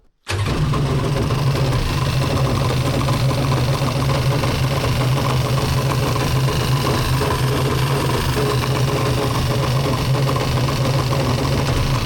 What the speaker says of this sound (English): I'll run this just for a minute to show the oil injections working